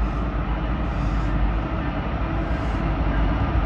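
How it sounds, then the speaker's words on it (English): A Union Pacific manifest freight train rumbles steadily toward Reno station in Nevada, a loud continuous roar of engine and rolling wagons with no break. "here comes a Union Pacific Mainfest train at the Reno train station"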